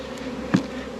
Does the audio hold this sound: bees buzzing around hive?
yes